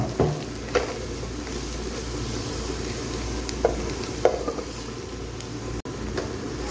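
Cumin, thick dried chilies, mustard seeds, fenugreek seeds and curry leaves sizzle steadily in hot oil, a dense close frying hiss with a few sharper crackles and pops, no voice over it.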